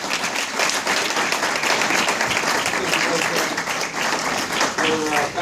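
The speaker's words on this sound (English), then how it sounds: "let's do another round of applause." Audience at a blockchain conference in Chicago breaking into a full, dense round of applause, many hands clapping steadily and loudly from start to finish.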